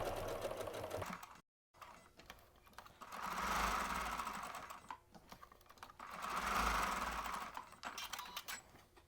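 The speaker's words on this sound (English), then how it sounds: "I'm just gonna sew around the edge." Sewing machine running a continuous stitch around the edge of a mini scrappy log cabin quilt block, motor swelling louder and easing off in two long runs with a brief pause early on, close and alone.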